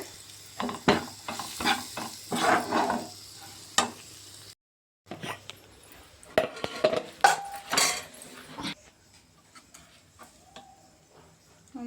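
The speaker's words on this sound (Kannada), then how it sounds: "ಧನಿಯಾ ಪುಡಿ ಹಾಕಿ ಮಿಕ್ಸ್ ಮಾಡ್ಕೊಂಡ್ರೆ ಎಣ್ಣೆ ಎಲ್ಲ ಕವರ್ ಆಗುತ್ತೆ" A spoon scrapes and clinks against a pan as coriander powder sizzles in hot oil, with bursts of stirring and a brief pause midway.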